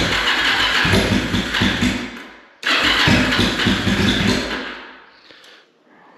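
A cold bobber motorcycle engine cranks over in two long bursts, a loud churning rasp that cuts off briefly, resumes, then fades away without catching.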